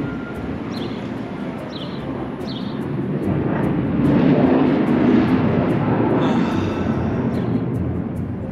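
An airplane passing overhead, a broad rumbling roar that swells toward the middle and slowly fades, with faint repeated ticking sounds nearby.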